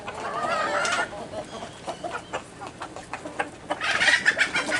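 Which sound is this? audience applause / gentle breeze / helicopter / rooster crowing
rooster crowing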